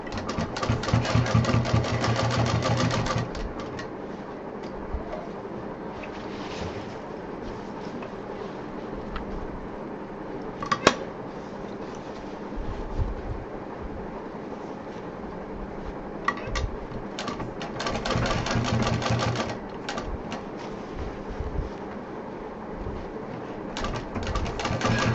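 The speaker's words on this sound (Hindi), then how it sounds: "बहुत आराम से चलानी है, बहुत पेशेंस के साथ सिलना है।" A sewing machine runs steadily, stitching a large DIY backpack, its motor whirring in a continuous close drone that speeds up and slows in stretches, with occasional clicks.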